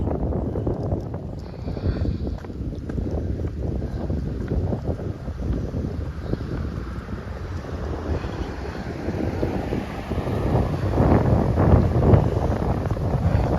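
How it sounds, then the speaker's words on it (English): Wind buffets the microphone on a long outdoor walk, a loud, continuous low rumble that swells and gusts, growing stronger toward the end, with no clear talk over it. "Trying to block the wind, but don't worry, we won't be so wind."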